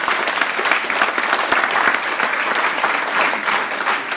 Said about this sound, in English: I think we all can have a round of applause that we live here in a great city